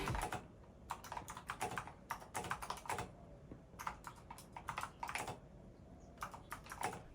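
Keys clacking on a computer keyboard in a home office setup, quick bursts of typing separated by short pauses, close and crisp with no voices.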